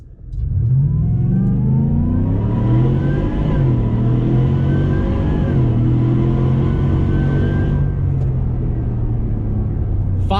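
A 650hp Roush F150 pickup launches at full throttle from a standstill, its engine roaring steadily and climbing through the gears with brief dips at shifts, loud and continuous from inside the cab.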